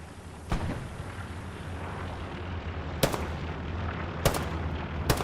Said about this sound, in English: Dodges the shots here.